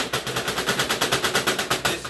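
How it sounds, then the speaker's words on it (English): A soap mold is banged repeatedly on a hard surface to level freshly poured soap, giving a fast, steady run of sharp knocks, about eight per second, close and loud with no voices. "is to just bang it on something"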